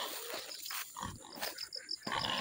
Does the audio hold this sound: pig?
yes